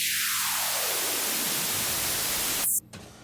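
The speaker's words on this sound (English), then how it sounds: "the white noise is full spectrum sound" A white noise riser built in FL Studio, a loud full-spectrum hiss that sweeps steadily upward in brightness as a filter opens, then cuts off abruptly near the end.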